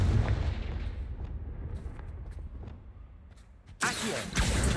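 A Confringo spell in Hogwarts Legacy blasts with a sudden loud explosive burst near the end, after a stretch of rumbling ambience and scattered clicks.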